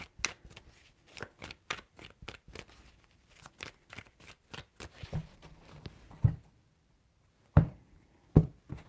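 Tarot cards are shuffled by hand in a quiet room, giving a series of quick, crisp riffling bursts in a steady rhythm, then a few sharper taps as the deck is squared.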